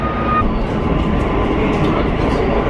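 Steady, loud rumble of a metro train ride, a continuous dense roar of wheels and carriage noise with no clear breaks.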